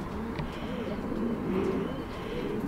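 Pigeons coo softly in a cherry tree, low repeated calls against light background noise with a few faint chirps.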